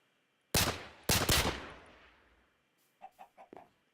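Three loud gunshots in the Minecraft video game ring out, the last two close together and trailing off, followed by a quick run of four or five faint chicken clucks.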